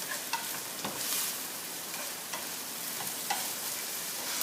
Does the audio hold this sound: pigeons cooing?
no